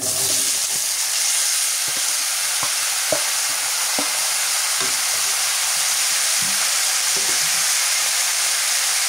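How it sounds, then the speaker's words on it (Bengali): Winter vegetables fry in oil with tempering spices, green chili and onion, giving a loud, continuous hissing sizzle with repeated stirring scrapes and clicks throughout. "ফোড়ন মরিচ পেঁয়াজ ভাজা হয়ে গেছে, এবার দিয়ে দিই সবজি।"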